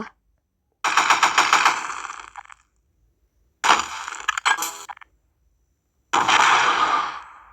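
In a horror video game mod, machine gun and shotgun fire come in three loud separate bursts of rapid, crackling shots, each cut off sharply by silence, with no talk.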